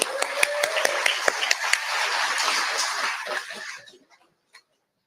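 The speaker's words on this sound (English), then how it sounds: "You guys give yourself a round of applause too." A rally crowd breaks into applause with distinct claps that merge into a dense ovation, then fade over several seconds to a few scattered late claps and near-silence.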